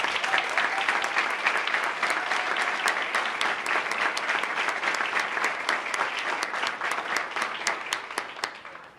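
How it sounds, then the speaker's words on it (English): A crowd applauds a corrections academy graduating class at its ceremony, with brisk, dense clapping and a few sharper individual claps standing out near the end as the sound starts to thin. "Audience, just give them all a round of applause"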